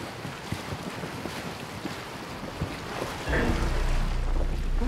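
A fast engine boat cuts across Lake Mareotis in Assassin's Creed Origins, its rushing water and wind noise steady, then a louder, rumbling surge near the end, with no voices.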